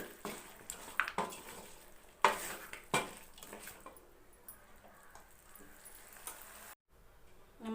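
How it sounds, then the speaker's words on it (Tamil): Chicken chinthamani is stirred in a pan, with several clacks and scrapes of a spoon against the vessel over a low simmer. The stirring quiets to a faint background hiss near the end, with no voices. "இப்போ இதை ஒரு முறை மிக்ஸ் பண்ணி அடுப்பை ஆஃப் பண்ணிக்கலாம்"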